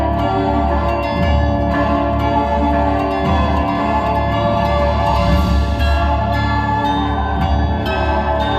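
Bronze bells ring out loud and close at the Michigan Renaissance Festival, a dense, continuous peal of overlapping struck tones sustained throughout with no talking.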